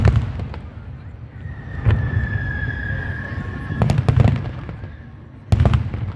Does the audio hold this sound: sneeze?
no